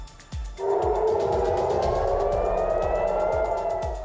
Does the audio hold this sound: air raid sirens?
yes